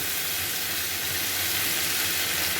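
Ginger, garlic and onion paste fries with cauliflower and potato in a pan, giving a steady, close, loud sizzling hiss with no voices.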